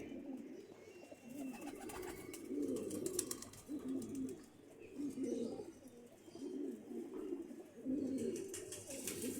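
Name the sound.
pigeons cooing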